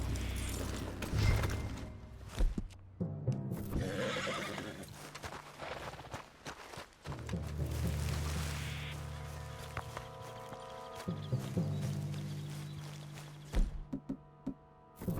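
A horse whinnies and its hooves clatter in Red Dead Redemption 2, with loud neighs early, irregular hoof knocks and thuds, and rumbling game sounds between, close and fairly loud.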